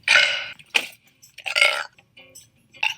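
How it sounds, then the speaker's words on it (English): A girl burps several times in a row, short loud belches separated by brief pauses, close to the microphone. "Sorry, I just burped a little bit."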